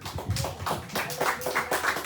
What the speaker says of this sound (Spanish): Dámosle un aplauso a ese Rey de Gloria